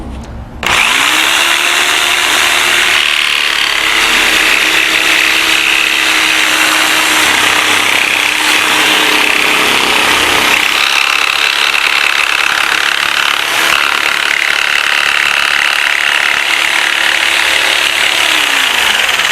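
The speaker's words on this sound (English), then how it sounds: "I want to turn the jigsaw and come on out the back side, leaving that little bit in the bottom" A jigsaw cuts crown molding on an EasyCoper jig, a loud steady motor buzz running almost the whole time with a brief dip partway through, close and continuous without talk.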